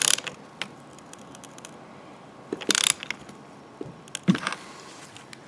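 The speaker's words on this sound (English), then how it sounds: "now we're gonna tighten the bulkhead connector. I have a socket on there and an adjustable wrench in the bottom holding it in place." Socket ratchet tightening a bulkhead connector on a third-generation Camaro, with scattered clicking bursts of ratcheting between quiet pauses, close and fairly faint.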